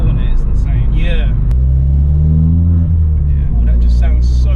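A Ford Fiesta ST EcoBoost with a Revo stage 1 tune and manual gearbox accelerates with a steady engine drone and rising rumble, heard from inside the car under people talking.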